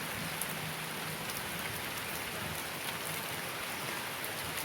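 Heavy rain pouring down in Taiwan, a dense, steady roar of drops hitting surfaces that stays loud and unbroken throughout with no voices.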